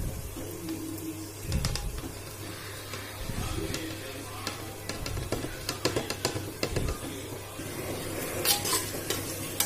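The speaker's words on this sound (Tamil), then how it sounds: "பொடி சேர்த்ததுக்கப்புறம் நல்லா ஒரு கிளறு கிளறி விட்டுக்குங்க." Spices are stirred into black chickpea curry (konda kadalai) in a hot pan, giving quiet scraping strokes over a soft sizzle in an irregular rhythm, close up and fairly faint.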